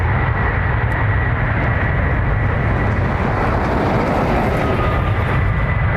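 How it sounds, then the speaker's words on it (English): An Aer Lingus airliner bound for Miami takes off from Dublin Airport with a loud, steady jet roar that fills the whole stretch without letting up. "Aer Lingus off to Miami."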